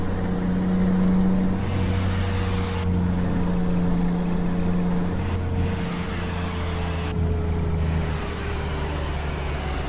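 A Scania P-360 truck braking in Euro Truck Simulator 2: a steady, loud diesel drone with shifting engine tones, hissing air-brake bursts and abrupt changes in road noise, with no one talking.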